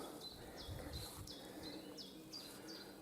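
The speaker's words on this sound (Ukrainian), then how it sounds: "Пташки співають." Small birds sing by a lake in a quiet countryside setting, a faint repeated series of short high chirps in a steady rhythm, distant and soft over a low ambient background.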